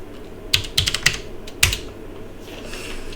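Typing on a computer keyboard in a Linux terminal gives a few sharp, close key clicks in a quick irregular cluster, then one firm keypress and a faint tail, with no talking.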